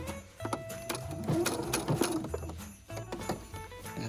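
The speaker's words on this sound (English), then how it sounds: "When you get close to the corner, you'll back stitch right at the corner," A sewing machine back stitches at the corner of a Christmas napkin, running in short bursts with brief pauses as it reverses, close and steady at moderate volume.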